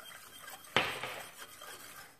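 A spoon strikes the side of a bowl once with a bright clink, then scrapes briefly while cocoa and sugar are stirred into milk. The sound is close and quiet against a soft background hiss.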